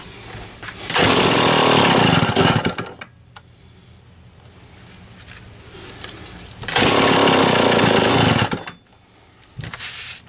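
A chainsaw engine with a Tillotson HL-63A carburetor on partial choke roars loudly in two bursts of about two seconds each, dropping to a low rough idle between them, then revving briefly again at the end.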